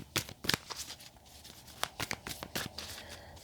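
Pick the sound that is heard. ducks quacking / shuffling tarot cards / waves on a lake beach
shuffling tarot cards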